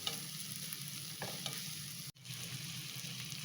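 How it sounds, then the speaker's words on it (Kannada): Tomato and green chili frying in a pan for onion rice, a steady close sizzle broken by a couple of stirring scrapes and a brief dropout, with no voices. "1 ಟೊಮೊಟೊ, 1 ಮೆಣಸಿನ್ಕಾಯಿ ಚೆನ್ನಾಗಿ ಫ್ರೈ ಮಾಡ್ಕೋಬೇಕು."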